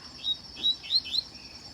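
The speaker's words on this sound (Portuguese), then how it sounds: "Essa coleira é louca, cara." A collared seedeater sings nearby in a quick series of four sharp, high chirps over a faint steady background, with no voices.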